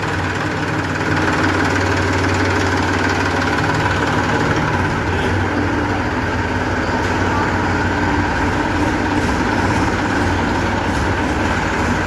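A Massey tractor's diesel engine, in good condition, runs at a steady idle, loud and close, with a constant low throb and no pauses.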